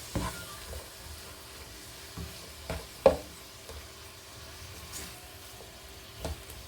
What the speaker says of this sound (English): Just going to give this a mix and allow these flavors to combine.